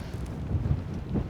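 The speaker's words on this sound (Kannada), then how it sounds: "ಸ್ವಲ್ಪ ಗಾಳಿ ಇದೆ ಹೊರಗಡೆ." Wind buffets the microphone during an outdoor bike ride on a village road, a low, rumbling, uneven roar close up with no voices.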